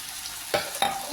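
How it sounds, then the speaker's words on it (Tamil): Grated coconut for a yellow pumpkin poriyal sautés in a hot pan, with a soft sizzle and two or three quick scraping strokes of a spatula, close up. "நல்லா அந்த தேங்காய் வணங்குற வரைக்கும் ஒரு ரெண்டு மூணு நிமிஷம் வந்து ரெண்டு நிமிஷம் வணக்கி விட்டுக்கலாம்"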